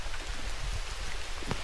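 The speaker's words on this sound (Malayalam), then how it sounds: "മഴ ആസ്വദിക്കാം, കാട്ടിൽ നിന്ന് മഴ ആസ്വദിക്കാം" Rain falls steadily in a forest on the route to Kolukkumalai via Ammachi Kottaram, a soft, even wash of drops on leaves and ground, faint and continuous with no voices.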